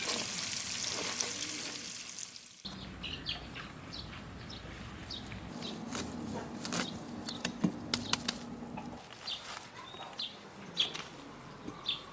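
Marinated pork slices frying in a lightly oiled flat pan for home Korean-style barbecue, a steady close sizzle with scattered sharp crackles and pops, with bird chirps faint in the outdoor background.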